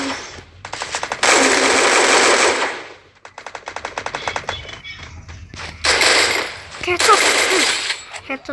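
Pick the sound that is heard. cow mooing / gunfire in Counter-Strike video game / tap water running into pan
gunfire in Counter-Strike video game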